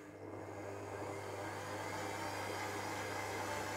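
An electric stand mixer kneads hot cross bun dough, giving a steady, fairly quiet motor whir with a low hum that holds constant and builds slightly in loudness over a few seconds, with no talk.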